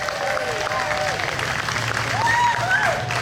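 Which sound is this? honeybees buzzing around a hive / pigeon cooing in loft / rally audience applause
rally audience applause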